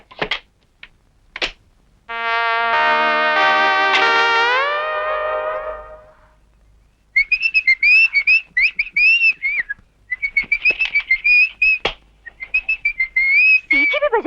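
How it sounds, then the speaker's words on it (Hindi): A man whistles a bright, warbling melody in a comedy scene at a temple, several phrases in a row, close and loud with short pauses between them, after an earlier sustained musical tone. "सीटी भी बजा रहे हो?"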